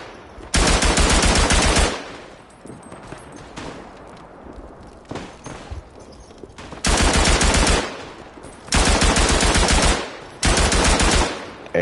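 Several loud bursts of rapid machine-gun fire ring out in the WW1 eastern-front video game Tannenberg, each lasting a second or so, with quieter single shots and distant battle noise between them.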